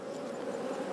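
Honey bees swarming around a hive during an inspection give a dense, close, steady buzzing drone, continuous and fairly quiet with no talk over it.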